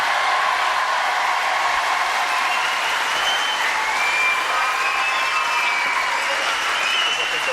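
A television studio audience applauds steadily and loudly throughout, a dense wash of clapping with cheers rising here and there.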